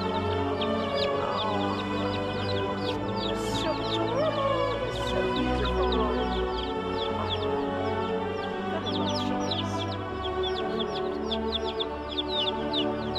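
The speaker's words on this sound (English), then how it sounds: "I guess I have some mothers who had some baby chickens." Mother hens clucking steadily with a brood of baby chicks peeping in high, rapid bursts over them, close and continuous.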